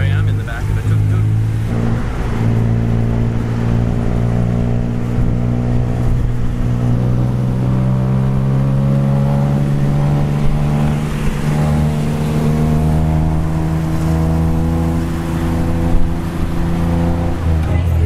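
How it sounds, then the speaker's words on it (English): Riding in the back of a tuk-tuk through Bangkok, the small engine drones close by and its pitch rises and falls in steady gear-like sweeps as the vehicle speeds up, with traffic noise around it. "here I am in the back of a tuk-tuk"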